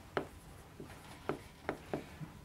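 Marker or chalk writing on a board, a handful of short scratchy strokes in an irregular rhythm, quiet and close in an otherwise hushed room.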